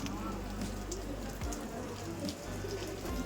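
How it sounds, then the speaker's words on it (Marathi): Steady rain patters on a surface throughout, with someone talking over it at moments. "पाऊस बघू शकता"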